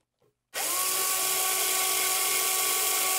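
A power screwdriver whirs steadily, driving a screw while a Moog Mother-32 synthesizer is being mounted. The tool kicks in abruptly after a brief faint tap and holds one continuous, close, fairly loud buzz.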